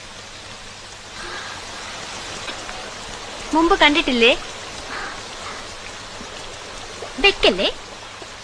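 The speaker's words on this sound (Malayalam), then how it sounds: "മഴ" Rain falls steadily as a continuous broadband hiss throughout, with people talking over it in two short bursts.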